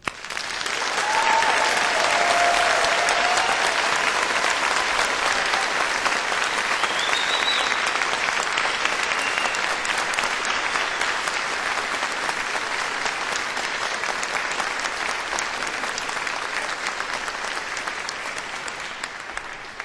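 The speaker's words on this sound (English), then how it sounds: "join me in congratulating you once more with a round of applause" A graduation ceremony audience bursts into sustained applause, a loud, dense, steady roar of many hands clapping that holds for the whole stretch with a few faint whoops, gradually easing near the end.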